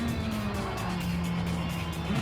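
A 1988 Nissan Silvia being swung around in Gran Turismo 7, a strained engine note held steady with tire squeal and skidding, close and loud throughout.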